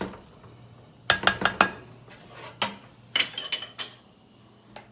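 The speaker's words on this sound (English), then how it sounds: "I'm using a wood spoon, okay guys?" A wooden spoon stirs Spanish rice in a pot, making bursts of quick knocks and scrapes against the pot, with short rapid clusters separated by quieter pauses.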